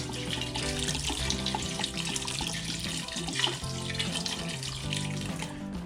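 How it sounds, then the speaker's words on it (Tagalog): Tap water pours steadily into a cooking pot for native chicken sinampalukan, a close, continuous splashing flow with gurgling tones shifting as the pot fills, with no voices. "So, lagyan natin ng konting tubig."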